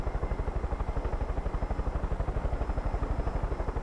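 Steady, rapid rotor thumping of a helicopter in the video game Far Cry 5, loud and continuous throughout, with a constant whirring engine drone underneath.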